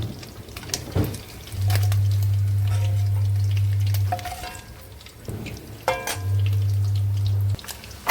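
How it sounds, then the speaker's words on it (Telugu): Oil sizzles and crackles loudly in two long bursts, with a low hum underneath, as eggs fry in a pan of oil used for dried prawns, alongside scraping and clinking. "అదే రొయ్యలు తీసిన ఆయిల్లో గుడ్లు వేసుకుంటున్నామండి"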